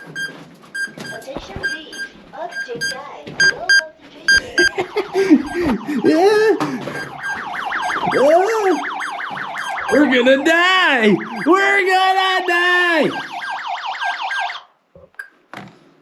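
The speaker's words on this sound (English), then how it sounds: "I'm gonna try and shut these alarms off" Gas-sensor alarms deep in an abandoned mine sound in rapid electronic beeps and warbling tones, overlapping loudly and steadily before cutting off abruptly near the end, while a voice shouts over them.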